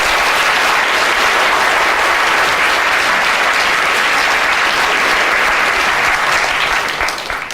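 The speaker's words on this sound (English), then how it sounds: "Round of applause for Esme." Live audience gives a sustained round of applause, loud and dense clapping from a large crowd that carries on evenly before tapering off at the close.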